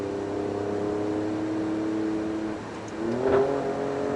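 An Alfa Romeo Stelvio Quadrifoglio SUV engine drones steadily at speed through turns at 80 mph, its pitch holding and then rising briefly as it accelerates, heard from inside the car.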